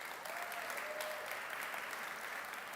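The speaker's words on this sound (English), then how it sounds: "can I just say a round of applause for Matthias, Herman, and Mark" Applause from a conference audience in a large hall, a steady wash of clapping held at an even, moderate level throughout with no voices above it.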